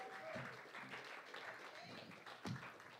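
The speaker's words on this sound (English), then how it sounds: "Give him a round of applause as he comes on up here." Applause from a live magic show audience, moderately loud and sustained, with some voices mixed in.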